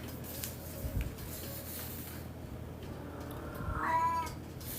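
A house cat gives a short, close meow near the end, faint against a steady background hiss.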